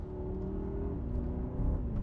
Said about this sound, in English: It has some very nice pull, and it's a good old V8, biturbo charged